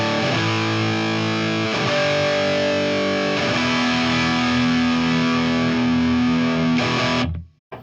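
Electric guitar played through an amp with an Ernie Ball overdrive and delay expression pedal pulled all the way back so the effect stays off, sustained ringing chords changing a few times before cutting off at the end.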